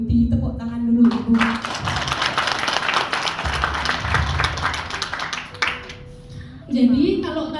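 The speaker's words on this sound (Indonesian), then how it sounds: "Tepuk tangan dulu, Ibu." An audience at a Multi Beauty business training seminar in Malang bursts into sustained applause, dense clapping lasting several seconds, framed by someone speaking through a microphone before and after.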